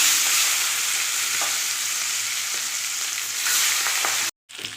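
Katla fish heads, rubbed with salt and turmeric, fry in hot oil in a pan with a loud, steady sizzle and occasional crackles and pops, with no talking, before a brief cut to silence.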